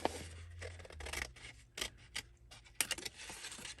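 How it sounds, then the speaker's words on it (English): Scissors cut a piece off a paper gift bag, giving a few crisp snips and rustling crunches of paper up close, with no talking. "I'm going to cut this piece off because that's just going to drive me crazy."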